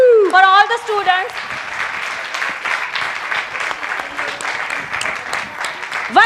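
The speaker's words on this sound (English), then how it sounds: "big clapping for all of performers big clap for all the students" An audience at a Japan festival applauds performers and students, steady dense clapping from a crowd following a loud voice over a microphone at the start, with the applause continuing alone afterward.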